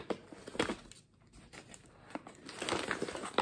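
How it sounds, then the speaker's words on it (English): A plastic Thread parcel mailer being ripped open up close, with crinkling and tearing bursts, a brief pause, then a longer stretch of rustling plastic. "The satisfying rip."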